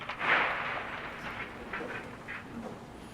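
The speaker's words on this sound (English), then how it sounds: "That's the sound of the plane coming apart." Airliner breaking apart during a rapid high-speed descent: a low, continuous roaring rumble with a sharp burst near the start and scattered faint cracks and creaks, muffled and moderately quiet, with no voices.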